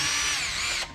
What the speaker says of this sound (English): so this part won't come out as I screw it in.